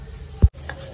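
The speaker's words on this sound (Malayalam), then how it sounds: "ഇനി ഉഴുന്നൊന്ന് വറുത്തെടുക്കാം." Urad dal dry roasting in a pan gives one brief, close scrape or rattle of stirring, with only quiet background on either side.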